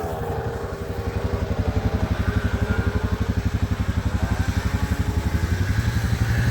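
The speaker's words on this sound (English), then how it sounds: "First time for Eli ever riding snowmobiles." A snowmobile engine drones close by at a steady pace, with a rapid, regular pulsing beat that builds slightly as the sled speeds up on snow.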